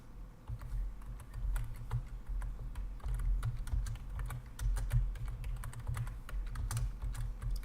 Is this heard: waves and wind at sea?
no